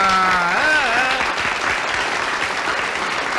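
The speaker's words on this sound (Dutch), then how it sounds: "Gelijk even een applaus" Steady applause fills a live radio show broadcast, loud and continuous, with a voice heard briefly at the start before the clapping carries on alone.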